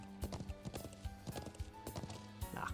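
Horse hooves clop in an uneven rhythm in Trails of Cold Steel III, several distinct strikes over a quiet background, fairly faint and close.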